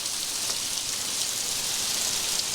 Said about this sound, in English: This is a gorgeous waterfall right here.